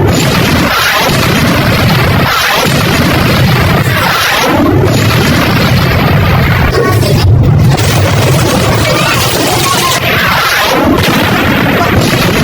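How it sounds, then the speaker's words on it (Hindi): Missiles that got past Iron Dome strike buildings in Israel, producing a dense, continuous roar of booms and rumbling blasts with a few sharper cracks, loud and sustained throughout with no voices. "कुछ मिसाइलें जो आयरन डोम इंटरसेप्ट नहीं कर पाया, वो देखिए गिरी है।"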